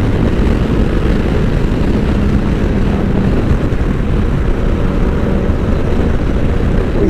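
A motorcycle's exhaust roars continuously with a loud, close, steady low rumble while riding on a road trip, unbroken by speech.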